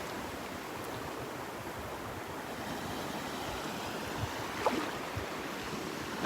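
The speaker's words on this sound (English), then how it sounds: "The little waves breaking here on the outer edge of the sandbar." Small waves break gently on the outer edge of a sandbar at Delnor-Wiggins beach, giving a steady wash of surf hiss with soft wind noise. It is heard from a short distance, with no talking.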